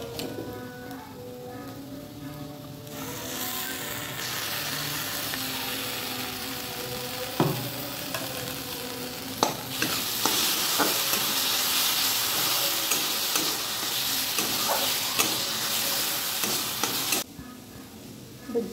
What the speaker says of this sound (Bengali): এবার পেঁয়াজটাকে কয়েক সেকেন্ড ভালো করে ফ্রাই করবো, কিন্তু পোড়াবো না